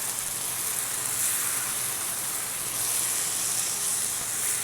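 Loud, steady sizzling and hiss as a large amount of tomato goes into a hot pan, continuous and close with no voices.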